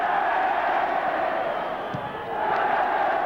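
A football stadium crowd at a Bristol Rovers versus Aston Villa match, a broad roar of displeasure sustained throughout, dipping briefly before swelling again, heard from a distance.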